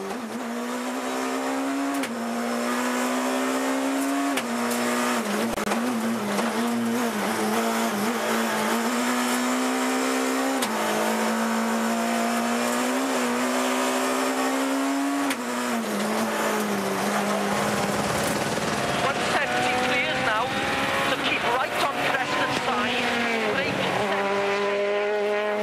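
Rally car driving flat out on a Monte Carlo rally stage, engine note rising and falling through gear changes as it passes, loud and continuous throughout.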